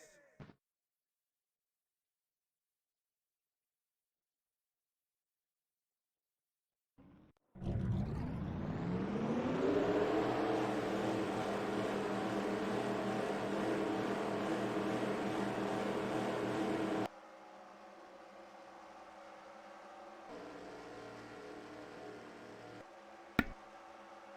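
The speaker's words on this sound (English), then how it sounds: "Drivers, start your engines!" Race car engines fire up together in a NASCAR-style racing video game at Texas, a sudden loud rumbling drone after several seconds of silence that holds steady, then drops to a quieter idle hum near the end.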